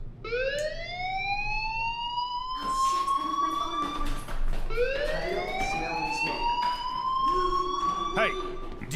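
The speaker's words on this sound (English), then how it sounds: "Hey, do you hear that fire alarm? That means you should be outside." A wailing, rising-and-falling siren-style school fire alarm in the video game Life is Strange sounds steadily and fairly loud, sweeping up in long repeated cycles with faint background sounds underneath.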